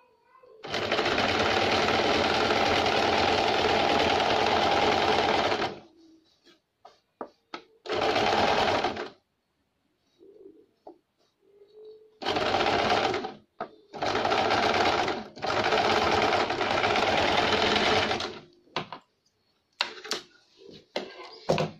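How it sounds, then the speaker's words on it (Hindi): A sewing machine stitches straight seams on a blouse back neck design, running in loud, close bursts of steady whirring that start and stop several times, with short quiet gaps between runs. "सेंटर पे सेंटर रखेंगे और सीधी सिलाई लगाएंगे ताकि हमारी ये डिज़ाइन ना हिल सके"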